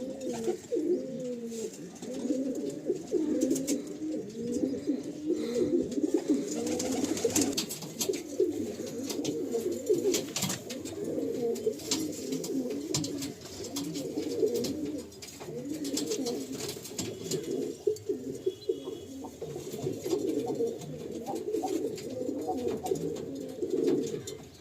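Pigeons coo steadily and continuously in an Andhra pigeon loft in Kolkata, a dense, close, overlapping chorus of low rolling coos that keeps up throughout without a break.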